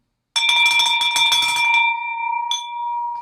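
A bell rung in an office to celebrate a closed deal: a bright, ringing tone struck rapidly and repeatedly for about a second and a half, then a sustained decaying ring with one more strike, close and loud.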